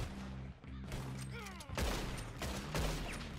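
Gunfire in the Red Dead Redemption 2 Online video game, a few sharp shots cracking through a busy mix of game sound and music, fairly distant and low in level.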